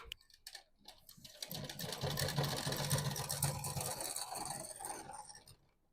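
A domestic sewing machine runs a steady, fast stitching chatter for several seconds while stitching the edge of a round suit neckline stiffened with buckram, starting after brief clicks and slowing near the end.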